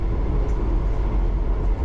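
London Underground Piccadilly Line train pulling into a platform, a loud steady low rumble of wheels and motors with no gaps, continuous throughout.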